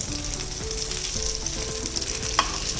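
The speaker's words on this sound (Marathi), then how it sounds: "अशी हलवून हलवून परतून सगळ्या बाजूनी ती चांगली शिजवून घ्यायची आहेत आपल्याला" Brinjal slices being stirred and sautéed in a frying pan, a continuous close sizzle with soft scraping of a spatula turning the pieces and one sharp clink near the end.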